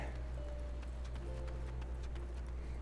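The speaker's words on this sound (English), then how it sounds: "That is one hell of a horse." Steady clip-clop of horse hooves at a walking rhythm over a constant low hum, with soft ambient game sounds in the background, in Final Fantasy XIV.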